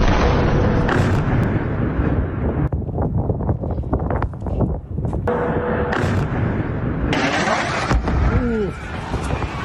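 Heavy booming explosion blasts and rumbling bursts in an industrial area in Qatar, loud and continuous, with gusty wind noise and faint voices in the background.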